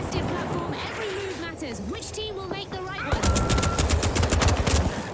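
Slow pistol shots in a video game ring out in the second half as a run of sharp, evenly spaced reports, loud and close, following a stretch of game noise with talk and music.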